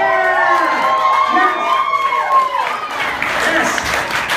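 Audience applause and cheering at a live comedy show in a coffee shop, a crowd clapping and calling out over a host's voice and music-like tones, filling the space for several seconds.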